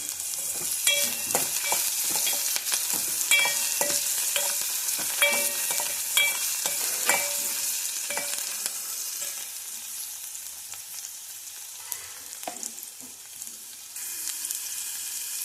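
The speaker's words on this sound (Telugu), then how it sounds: "ఆయిల్ టమాటా కూడా యాడ్ చేసిద్దాము." Tomatoes and vegetables fry in oil in a pan with a steady, close sizzle and crackle, punctuated by occasional stirring clatters, with no talking.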